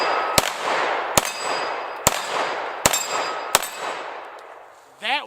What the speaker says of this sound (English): That was 5 in a row on the 8-inch gong.